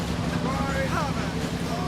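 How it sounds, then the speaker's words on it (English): Ship engines start up with a low, steady rumbling drone alongside a faint whirring tone, heard under a voice in a radio drama setting. "Listen, the engines are starting again."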